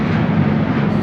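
Steady low broadband rumble like distant engine or machinery noise, continuous and fairly loud with no talking.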